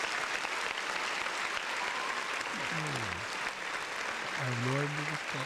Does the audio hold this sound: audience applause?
yes